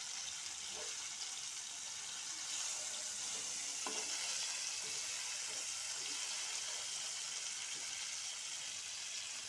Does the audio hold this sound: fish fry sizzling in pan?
yes